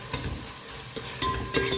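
Prawn biryani masala with coriander and cumin powder being stirred as it fries in a pan, a soft close sizzle broken by a few short scraping strokes of a spoon.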